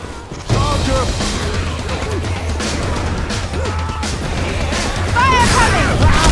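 A Charger infected attacking in Left 4 Dead 2's Dead Center campaign, a dense loud clash of gunfire, crashes and growling under shouting players, with a rising screech near the end.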